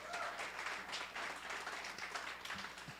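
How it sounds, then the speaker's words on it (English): Applause from an audience at a community media event, fairly quiet and distant, a broad continuous patter of clapping with faint low background sounds and no voices. "Another round of applause for Vesta."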